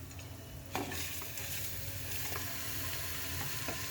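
Pulao rice frying in soybean oil with a little ghee, a dense, constant sizzle with a sharp scrape near the start and a few softer stirring knocks afterward, no speech.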